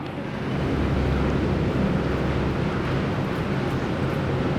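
A UVR vertical tree mill starts up and runs, building within half a second into a loud, steady broadband roar and rumble that holds evenly throughout.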